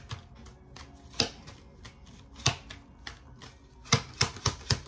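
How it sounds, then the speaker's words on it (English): Tarot cards being shuffled by hand, a series of crisp riffling and snapping bursts, some louder than others, with quiet pauses between them and no talking. "Let me shuffle these cards."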